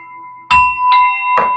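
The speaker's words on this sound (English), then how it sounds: "Ding dong." A doorbell-style chime strikes three times, each bright tone ringing on with a sustained shimmer while a steady electronic hum runs underneath.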